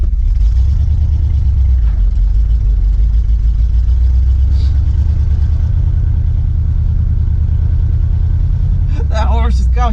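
Old GMC truck, left sitting for 30 years, runs with a loud low engine rumble that holds steady as gas is given, with a brief voice near the end.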